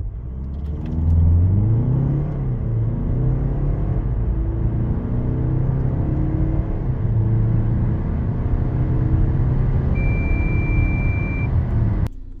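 A 2024 Kia Sorento 2.2 CRDi AWD diesel SUV revving hard as it pulls away from a stop at full throttle, pitch climbing through several gear changes, then a steady high beep near the end.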